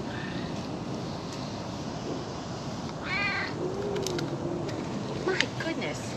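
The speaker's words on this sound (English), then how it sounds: "She is growling at Beecher" A big cat at a rescue sanctuary growls low and rumbling through outdoor background noise, with a short higher meow-like cry partway through and people talking.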